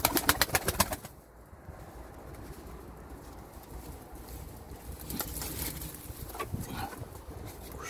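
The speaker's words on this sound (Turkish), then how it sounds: "Biraz hırçın kuşlar." Domestic pigeons, including a smoky grey male, coo softly at close range amid rustling and fluttering, after a brief run of sharp rhythmic taps at the start.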